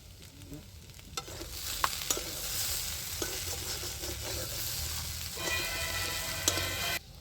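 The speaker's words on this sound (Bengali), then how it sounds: "বাদামটা দিয়েও আমি এবার ভালো করে নেড়ে নেব" Singara filling with peanuts stirred and fried in a pan, a steady soft sizzle broken by repeated scraping knocks of the spatula against the metal, close and moderately loud with no talking.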